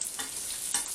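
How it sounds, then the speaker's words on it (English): Chicken and sausage browning in a hot pan for a pasta dish give a steady, close hiss of sizzling fat, with two brief bursts where the meat is stirred. "So I'm going to be browning this off for a little while longer. It's starting to brown"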